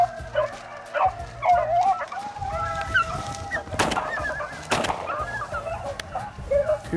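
Hunting dogs bark and yip in excited, irregular bursts while chasing a rabbit through swampy cover, some close and some farther off, with whimpering yelps mixed in.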